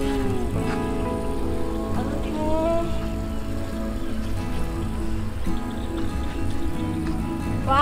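An automatic water pump draws water up from a deep river, producing a steady, loud rushing and gurgling drone that continues without pause throughout.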